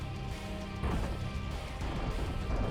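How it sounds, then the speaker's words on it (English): Artillery barrage in a video game, a dense rumbling roar of overlapping blasts that swells louder partway through and continues steadily, with no talk. "I think that's my artillery barrage."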